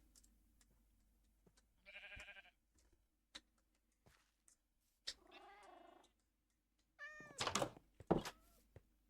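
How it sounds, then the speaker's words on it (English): Cats in the Minecraft video game meow several times in short, clear bursts between soft footsteps and clicks, with no voices. "I'm gonna tame one of these cats."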